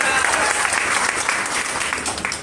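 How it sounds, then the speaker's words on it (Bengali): A gathered crowd bursts into steady, loud clapping, dense and continuous throughout the short stretch. "হাততালি দেন।"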